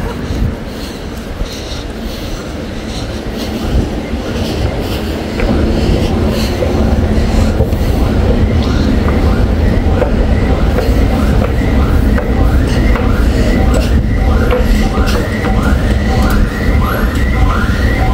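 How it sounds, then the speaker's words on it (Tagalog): A train runs on rails, its steady close rumble carrying a rhythmic clickety-clack and faint repeated wheel squeals through the whole stretch, with no talking. "Sakay na ulit tayo sa train."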